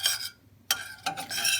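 Spoon stirring melting chili cinnamon balm in a small pot, giving a few short scraping bursts separated by brief pauses, close and fairly quiet.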